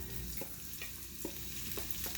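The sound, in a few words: onions and celery stirred into sizzling bacon fat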